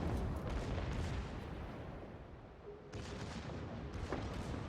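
Secondary guns on a warship in the naval battle game World of Warships fire in dull, rumbling booms under continuous battle noise, with a few distinct thuds standing out.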